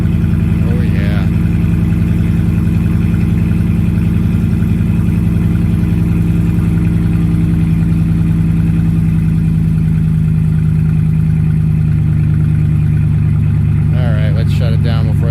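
A 5.7L Hemi V8 fitted with a Flowmaster Outlaw exhaust rumbles loudly and steadily at idle, deep and close, with brief blips near the start and end.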